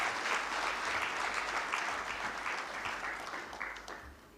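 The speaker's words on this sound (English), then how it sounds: "A round of applause." Applause at a regional judiciary symposium after a communique is ratified, a steady round of clapping from a hall audience that gradually thins toward the end.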